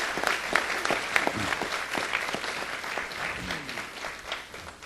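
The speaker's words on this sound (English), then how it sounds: "Give them a nice round of applause." Steady round of applause from attendees at a city council meeting, many hands clapping densely and evenly throughout at close range, with a few louder individual claps standing out and faint voices mixed in.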